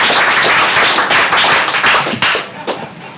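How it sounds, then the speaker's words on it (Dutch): Audience applause at a poetry club event in a Rotterdam venue, a dense, loud wash of many hands clapping steadily that tapers slightly toward the end. "Mag ik een applaus voor Patricia Verwij?"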